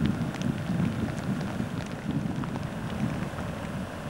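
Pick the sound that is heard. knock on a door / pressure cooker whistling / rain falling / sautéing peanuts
rain falling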